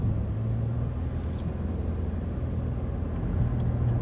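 A racing van drives through the Sherrill Cove Tunnel near Asheville, North Carolina, its engine and road noise a steady enclosed rumble throughout with no talking.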